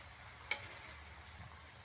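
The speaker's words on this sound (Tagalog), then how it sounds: "Gisa-gisa muna." Garlic being sautéed in a pan for a Filipino fiesta dish, a soft steady sizzle with one sharp utensil clink against the pan near the start.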